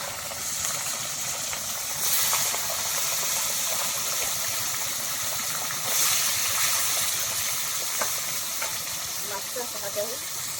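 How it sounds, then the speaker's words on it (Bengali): Fish pieces sizzle and crackle steadily in hot oil in a pan, a continuous broadband hiss with small pops, with no voice heard. "এইভাবে আমি মাছ কটা সব ভেজে নেব"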